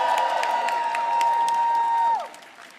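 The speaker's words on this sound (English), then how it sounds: "Please give them another round of applause." Large crowd at a political rally for the Consumer Financial Protection Bureau applauding and cheering with whoops, loud and sustained before cutting off, with a steady tone sounding through the din.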